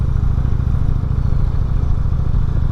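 A 2016 Indian Springfield motorcycle riding in fourth gear, its engine giving a loud, steady, deep low rumble throughout with no talking.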